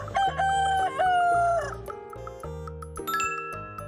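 A rooster crows, loud and near, in a long stretched cock-a-doodle-doo, followed by a few shorter clucks and calls, with no speech.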